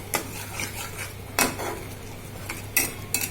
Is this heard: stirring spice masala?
yes